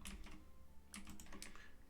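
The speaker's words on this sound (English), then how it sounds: "I'm very good at pressing my keyboard, just not the right parts of it." Quiet bursts of keystrokes on a computer keyboard during Minecraft modded survival play: clustered, irregular clicks at close range, with short pauses between runs and no voices.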